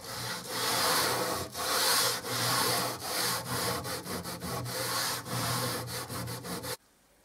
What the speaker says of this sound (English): give it all a good sand down